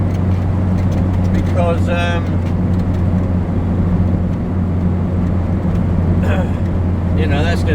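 A Talbot Express van on a test drive with a constant low engine drone and a faint whine from the gearbox, interior and steady, while people talk over it.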